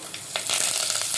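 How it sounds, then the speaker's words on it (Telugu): Mustard seeds, cumin and fenugreek splutter in hot oil for a chutney tempering. A close, bright crackle and sizzle comes with a few sharp pops, and nobody speaks. "అవి అలా చిటపట్లు ఆడుతున్నప్పుడు"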